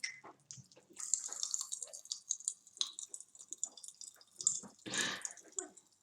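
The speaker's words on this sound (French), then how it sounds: "Il y a un robinet qui coule." A leaking water tap drips steadily indoors, each drop a soft, close tap in an otherwise quiet space, with irregular gaps between drops.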